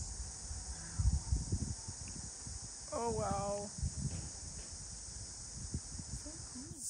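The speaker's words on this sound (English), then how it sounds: "The cicadas are singing to us." Cicadas in New Zealand's Marlborough Sounds keep up a steady, high, continuous buzzing drone, while a person speaks briefly and soft rustling and footsteps sound nearby.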